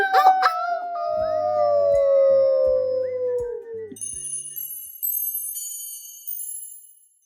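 A single long wolf howl sliding slowly downward, imitated by a voice, followed by a few high tinkling chimes.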